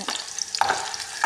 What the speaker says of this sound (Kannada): ಸ್ವಲ್ಪ ಉಳ್ಳಾಗಡ್ಡಿ ಹಾಕೀನಿ, ಚಲೋ ತಂಗ ಫ್ರೈ ಮಾಡ್ಕೋಬೇಕು ರೀ ಉಳ್ಳಾಗಡ್ಡಿನ